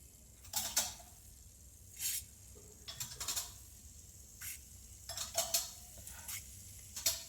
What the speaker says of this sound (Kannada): ಒಂದು 2 ಸ್ಪೂನಷ್ಟು ಸಾಸಿವೆ ಹಾಕಿದ್ದೀನಿ.